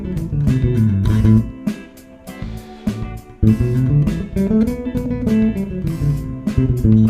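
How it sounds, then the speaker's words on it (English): Bass guitar running up and down scales in quick, even notes, played alone and close, with a short pause midway. "Someone who just runs scales instead of playing musical phrases might sound like this."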